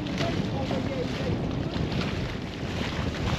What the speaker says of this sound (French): on est toujours au moteur, toujours pas de voile